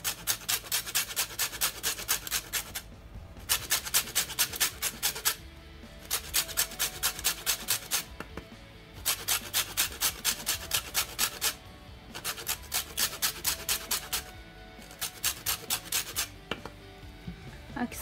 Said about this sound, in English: I'm going to add some lemon zest.